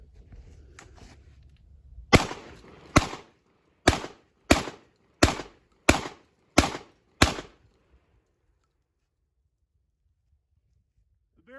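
A Beretta 1301 shotgun fires Remington Nitro 27 light loads, eight sharp, loud reports in a fairly even rhythm, each about a second apart, with quiet between shots and near silence afterward.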